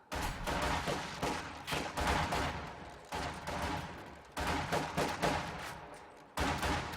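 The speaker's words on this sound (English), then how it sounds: "Conscripts both sitting in green cover, just blasting away at this garrison here." Soviet conscript rifle squads in Company of Heroes 2 fire steadily at a garrisoned building, making loud, dense bursts of overlapping gunshots in several waves. Each volley breaks off briefly before the next, and no voice is heard.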